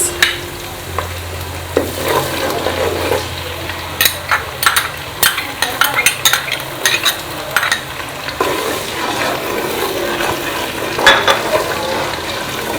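Locust beans tumble into a hot frying pot and get stirred, bringing a steady sizzle with repeated close scraping and clinking of a spoon against the pot, and no voices.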